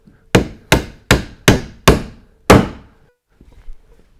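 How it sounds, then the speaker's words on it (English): A hammer drives a nail into wood with six sharp, evenly spaced blows, loud and close, each strike ringing briefly before fading, followed by a few faint knocks. "hammers are usually used to hit nails through pieces of wood"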